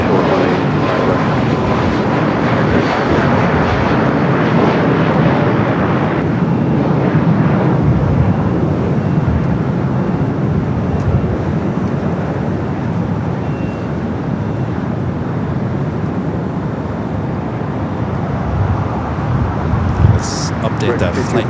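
A SkyWest Embraer E-Jet takes off from LAX runway 25 right, a loud, sustained broadband jet roar that holds for over twenty seconds, with voices talking underneath.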